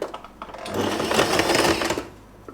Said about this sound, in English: I will start sewing from the seam here.